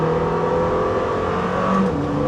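Lamborghini Temerario engine revving nearby, a loud continuous exhaust roar with a brief rise toward the end.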